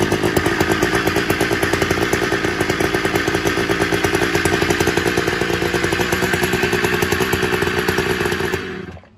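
A gas string trimmer engine runs loud and close for about nine seconds with a rapid, steady two-stroke buzz and pulsing firing rhythm, then cuts off abruptly at the end, no voices over it.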